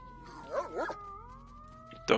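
A dog howls in S.T.A.L.K.E.R.: Shadow of Chernobyl, wavering yelps giving way to a sustained rising howl, followed by a sharp burst at the end.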